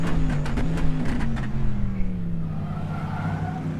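A Corvette C7.R racing car engine at Sebring in a racing simulator roars loudly and steadily, its pitch sliding slowly downward, with a few sharp clicks and ticks in the first half.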